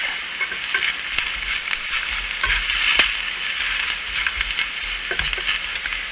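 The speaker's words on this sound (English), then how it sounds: "to brown the potatoes, and now I'm going to turn it down a little bit because I'm going to add the eggs" Leftover French fry potatoes and onions fry in a pan, a steady close sizzle with scattered crackles and occasional scraping stirs throughout.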